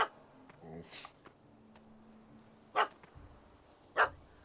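A dog barks in The Witcher 3: Hearts of Stone, a few short sharp barks spaced apart over quiet game ambience, with a brief soft vocal sound early on.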